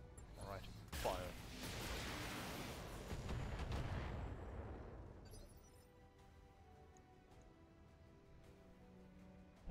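Heavy mech weapons in the Battletech game let loose a dense, roaring volley of booming fire and crackling impacts that fades out over several seconds, then leaves faint low rumble and scattered ticks; a voice speaks early on.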